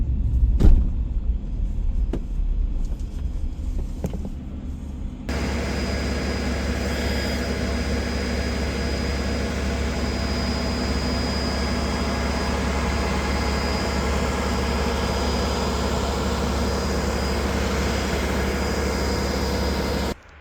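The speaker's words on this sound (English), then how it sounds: "We've got 2 tractors hooked up, so you can see we have our 2 tractors here." Two tractors run on a flooded, iced-over cranberry farm, giving a steady low engine rumble that holds at an even level after a brief rougher start, with no talk.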